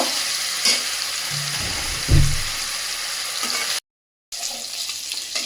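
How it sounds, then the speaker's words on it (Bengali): Chicken pieces fry in a pan and are turned over, giving a steady close sizzle with a few louder thumps and scrapes as they flip, briefly cut to silence before the sizzle returns. "চিকেনগুলো উল্টায় পাল্টায় সুন্দর করে আমি এরকমভাবে ভাজবো।"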